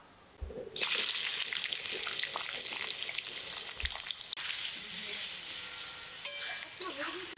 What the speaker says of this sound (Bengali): তেলটাও গরম হয়ে গেছে, কড়াইতে পেঁয়াজ কুচিগুলো দেব।